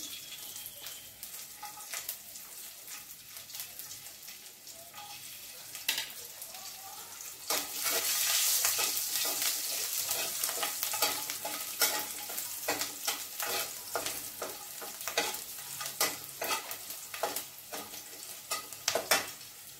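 Garlic cloves fry and sizzle in a pan while being stirred, with a steady hiss of hot oil punctuated by repeated scraping and clinking strokes of the spoon, growing louder midway.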